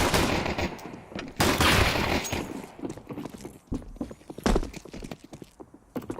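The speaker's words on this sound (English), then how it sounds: "Odyssey with the double Glock headshots" Pistol fire from Glocks in a Counter-Strike 2 match, several sharp loud shots in separate bursts among footsteps and clattering game sounds.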